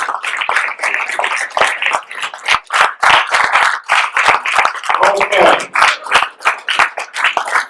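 Dense, rhythmic audience clapping in a hall at a tribute event, loud and close, swelling in waves and continuing without a break while a voice speaks briefly.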